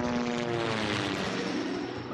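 Helicopter flying in an animated Godzilla series, a steady loud rotor and engine drone with a humming tonal whine, continuous and close throughout with no talk.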